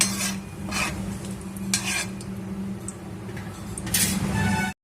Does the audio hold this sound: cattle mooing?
no